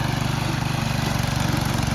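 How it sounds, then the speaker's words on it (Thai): A small walking tractor with a mower head and three forward gears runs its engine at mid throttle, making a steady, loud, pulsing drone with no talk over it. "ตัวนี้ไม่ได้เร่งเครื่อง สุดนะครับ ก็เร่งขึ้นมาประมาณ กลางๆนะครับ ฟังจากเสียงเครื่องได้เลยนะครับ"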